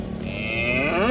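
A Simmental cross cow moos in one long, rising call that swells louder toward the end, close by and with no talk over it.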